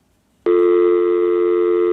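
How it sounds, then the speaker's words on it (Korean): A steady telephone tone sounds after a call disconnects, starting abruptly and holding loud and unbroken to the end. "네, 전화가 끊겼습니다."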